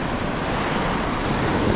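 Ocean surf during a king tide at College Cove in Trinidad, California, a steady broadband wash of breaking waves and rushing water with some wind noise on the microphone, continuous and fairly loud throughout.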